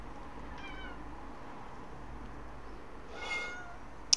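A house cat meows a few times, faint and fairly close, in a quiet indoor room with no talking.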